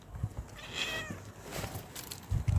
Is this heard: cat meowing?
yes